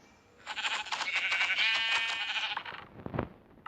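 A sheep in a Minecraft SkyBlock game bleats in a long, wavering cry lasting a couple of seconds, followed by a shorter bleat, fairly close and clear.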